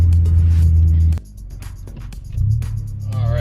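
A 1993 Honda Prelude Si engine rumbles loudly at idle while pulling up at a gas station, then drops to a quieter running hum and swells slightly again near the end.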